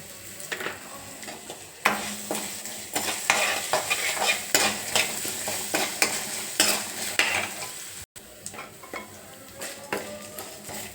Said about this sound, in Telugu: ఇప్పుడు దంచుకున్న వెల్లుల్లి వేసి వేగనివ్వాలి.